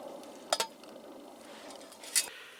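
Metal lid set onto a pot on a rope stove outdoors, two short clinking metallic knocks over a quiet background hiss.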